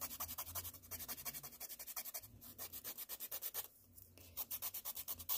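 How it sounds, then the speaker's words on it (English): Pencil lead rubbed back and forth on rough sandpaper to clean it, a rapid series of close, dry scratchy strokes in an even rhythm with a couple of brief pauses. "all I do is just run it on this rough sandpaper"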